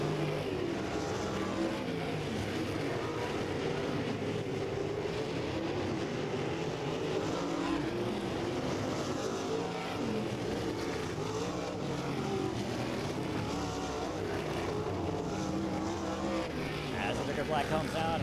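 Race cars circle Lake Ozark Speedway during a hot lap session, a steady distant engine roar under continuous announcer commentary over the loudspeakers.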